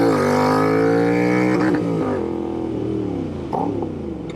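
A Royal Enfield INT 650 motorcycle fitted with a Revelry Racing intake and an S&S cam revs loudly in town, holding a high, steady rev, then easing down with a couple of quick throttle blips as the engine settles.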